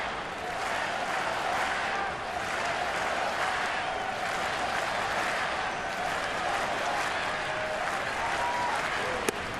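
A baseball stadium crowd during a 2019 Royals vs Nationals game claps and cheers in the seventh inning, a broad continuous roar of applause at moderate distance with rhythmic swells throughout.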